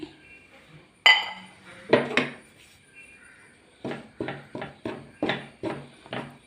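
A cup of gram flour being lightly heated in a pan for Mysore pak, with a spoon scraping and clinking against the metal in a series of sharp, close taps and stirs.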